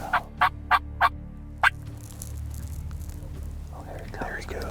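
A wild turkey gobbles during a spring hunt near a tree line, four quick rattling bursts in a row followed by a fifth after a short pause, fairly close and clear, with hushed whispering voices around it.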